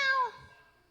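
A voice imitates a cat's meow in a single short, harmonic cry that falls in pitch and fades quickly, heard up close with no other talk.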